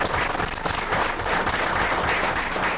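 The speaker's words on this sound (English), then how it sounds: "let's give him a round of applause" A packed room at a city commission meeting gives a continuous round of applause, a dense, even wash of many hands clapping close by with no talk.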